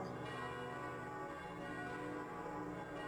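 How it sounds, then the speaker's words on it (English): Church bell tolling inside the video game Koudelka, a steady sustained ringing with lingering resonance that fills the whole moment on its own, fairly quiet and with no talking. "What's that bell?"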